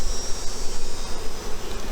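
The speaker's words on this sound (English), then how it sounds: "Bees can be very friendly." Honey bees buzz steadily around an open hive during a honey harvest, a dense, continuous swarm drone close by with no voices.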